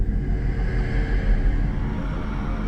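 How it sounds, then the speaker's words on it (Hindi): A steady low mechanical rumble and hum continues throughout, like an elevator car moving in its shaft, with no voices. "ये लिफ्ट की आवाज थी।"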